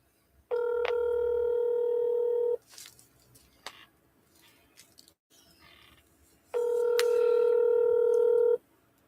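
Two long, steady phone tones sound loud and clear, each lasting about two seconds, with a few seconds of faint shuffling and clicks between them.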